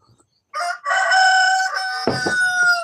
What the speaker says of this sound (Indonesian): Itu pertanda ayam saya tuh.